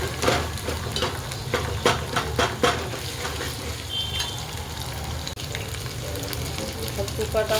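Kasuri methi sizzles in hot oil alongside red chilli powder and turmeric, a dense continuous frying hiss with a few quick stirring scrapes early on, close and steady, no one speaking.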